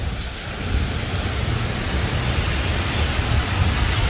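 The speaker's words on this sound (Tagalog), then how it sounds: "Kahit ang lakas ng hangin. Ang ulan pa, walang tigil." Heavy, unbroken rain driven by strong wind over an outdoor garden of tomatoes and strawberries in Canada: a steady, loud roar of rain that holds throughout, with no voices.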